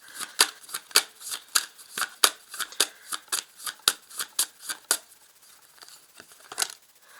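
Tarot cards being shuffled and drawn during a reading, a run of crisp, close riffling snaps in quick rhythm that thins out into a few scattered flicks, with no talk over them.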